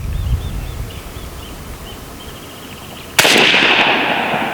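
A BINTAC T9 9mm semi-auto air pistol fires one loud, sharp shot after a quiet outdoor stretch with faint bird chirps, and the report rings out with a lingering hiss.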